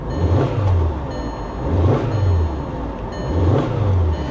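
Close, loud revving from a Ford Mustang on air ride at the IAA show: three quick throttle blips, each a deep swell that rises and drops back to idle, with no one speaking.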